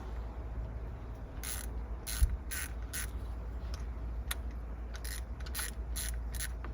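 A hand ratchet clicks in short quick bursts while driving bolts onto the cam gear cover of a Toyota 2JZ-GE VVT-i engine, the sharp pawl clicks coming in several spaced runs over a low steady background hum.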